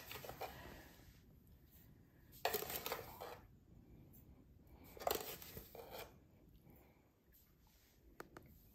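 Dry yeast is spooned onto a kitchen scale to weigh out 9 grams for bread dough. Two brief bursts of soft granular rattling and scraping are heard close by, separated by near silence.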